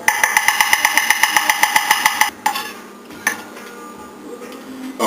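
A knife chops four small garlic cloves on a cutting board for black bean soup, with a quick, steady run of close, crisp taps that stops partway, leaving softer, scattered knocks and a couple of isolated clicks.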